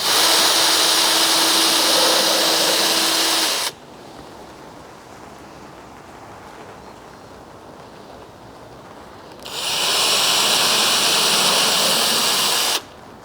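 Two bursts of a loud high-pitched power drill whirring as it pre-drills holes for nails, the first about four seconds long, then a quiet gap before a shorter second burst.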